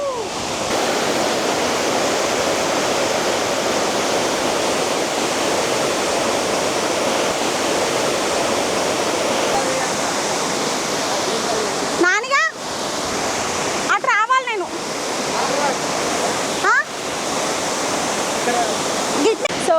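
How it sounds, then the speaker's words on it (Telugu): A waterfall roars nearby as a loud, continuous broadband rush of falling water; a few brief chirping and whistling sounds cut in near the end. "వాటర్ ఫ్లో చూడండి ఒకసారి అయితే."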